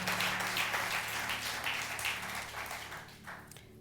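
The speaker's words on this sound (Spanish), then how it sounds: "darle un fuerte aplauso a su Señor" A church congregation claps for the Lord in a broad, diffuse wash of applause that swells and then fades, with a low organ-like hum beneath it.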